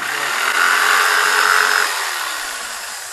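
Kayak rack brackets being heated to straighten them, a steady close airy whoosh of a hot-air tool that swells briefly and then eases off slightly, with no speech.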